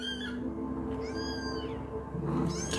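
Young kittens, one of a litter of nine with their foster mother, meowing in a few thin high-pitched cries, close and fairly soft, with no talk.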